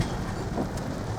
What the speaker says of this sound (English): she's raining up big time in the Picker Hood